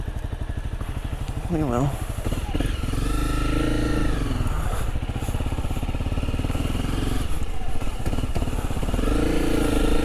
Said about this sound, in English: this is a 2017 Honda CRF 250R on off-road enduro style bike.